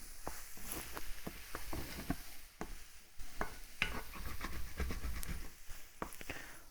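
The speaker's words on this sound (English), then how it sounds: "I'm just gonna pour in there just what I need to give a little bit of moisture to that scrambled tofu." Scrambled tofu with a splash of soya cream being stirred in a pan, giving steady close scraping and stirring strokes over a soft sizzle, with no talking.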